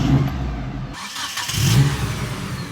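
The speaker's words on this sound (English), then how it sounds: "It kicked over with a lot of authority and power, like it really wanted to start, like it's actually cranking over hard" A Mitsubishi Express engine cranks briefly and catches after a battery upgrade to 650 CCA, then settles into a steady mid-pitched idle, close and clear with no voices.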